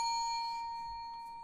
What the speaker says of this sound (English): I'm giving you another ding.